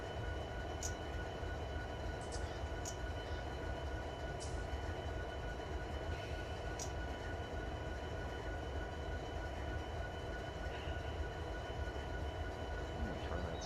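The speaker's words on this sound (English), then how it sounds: "That's a Z train." Freight train in the Run 8 train simulator, a steady loud rumble of rolling cars and engine with a few sharp metallic clanks scattered through, continuous and without voices.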